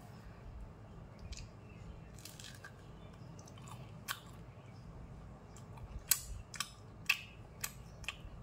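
Someone biting into and chewing crispy fried chicken pakoda with fresh onion and green chilli, soft close crunches that grow sharper and more distinct toward the end, quiet and without talking.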